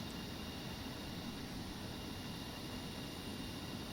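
Steady, broadband engine roar of an aircraft taxiing slowly in a flight simulator game, a constant even drone with a thin high whine on top and no talk over it.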